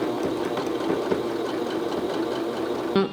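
A sewing machine top-stitches the strap channels of a homemade swimsuit, a steady fast needle chatter running continuously at moderate volume.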